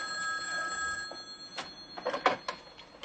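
A telephone bell rings in short bursts, moderately loud indoors in a sitcom home, with a couple of brief louder knocks or movements near the end.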